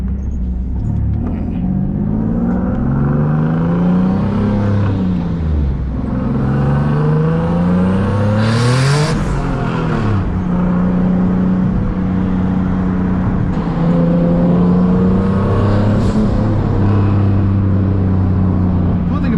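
Single-turbo Nissan 370Z Nismo engine revving while driving, a loud steady rumble with the pitch climbing and falling through gear changes and one sharp rev burst midway, recorded from inside the car.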